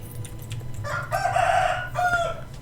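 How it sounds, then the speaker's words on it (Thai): A rooster crows loudly in a Roblox horror game, one drawn-out call that breaks off into a shorter final note, over a low steady hum. "เอาเทปดำไปปิดปากไก่ดิ"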